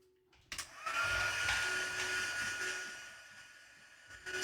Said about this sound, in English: And then we're going to take our heat tool.